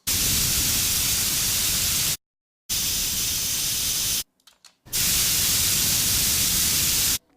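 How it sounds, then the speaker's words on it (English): Bursts of harsh, steady hissing spray from a computer air duster, several seconds each, separated by short silences and a few brief sputtering puffs, loud and close. "This was me trying to experiment with the computer duster."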